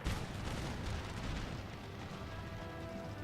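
Musket units in Empire Total War open fire in a dense, continuous rumble of overlapping volleys and booms that fills the battlefield and stays loud from start to finish.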